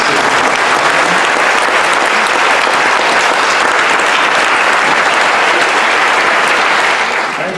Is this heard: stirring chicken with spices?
no